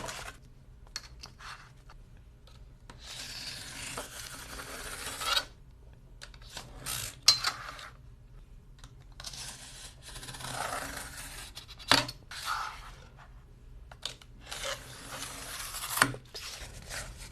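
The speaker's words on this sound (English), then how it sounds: "We use 6x6 cardboard boxes and cut them into 2 pieces." Cardboard boxes, six by six inches, being cut into pieces, with repeated rough rasping, scraping bursts of blade through corrugated board, close and fairly quiet, separated by short pauses.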